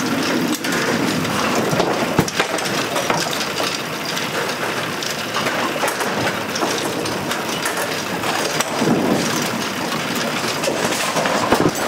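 Pinsetter machinery racketing behind the pins at Queen Anne's Bowl, a dense, loud, continuous mechanical roar with clattering and rattling throughout, close and unbroken.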